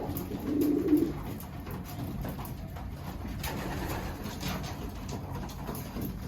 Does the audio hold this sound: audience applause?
no